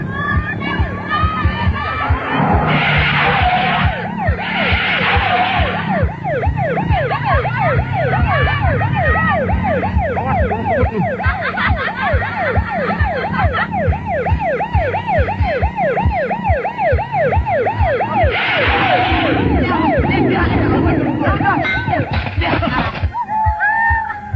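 A police siren wails loudly in a rapid, repeating up-and-down pattern amid a noisy crowd, with shouting voices breaking in over it at times.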